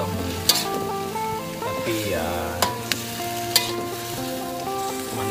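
Squid frying in a pan for a spicy sambal dish, with steady loud sizzling and clattering stirring clanks at several points, alone without talk.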